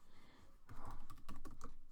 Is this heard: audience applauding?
no